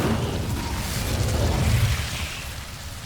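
An Incendio fire spell cast in Hogwarts Legacy, heard as a steady low rumbling whoosh of flame that swells toward the middle and then eases off, with no speech over it.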